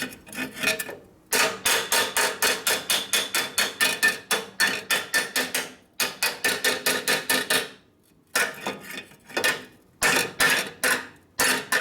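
Rapid, loud metallic hammer blows beat out a bent metal part over a round tube during a 1952 Harley panhead top-end rebuild, coming in fast steady bursts separated by short pauses.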